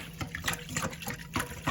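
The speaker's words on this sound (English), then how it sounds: "So now we're just gonna stir it up with said whisk and make sure that it's all" A whisk stirs a thin liquid batter with yeast in a bowl, giving a quiet, steady wet swishing and sloshing with soft clinks throughout.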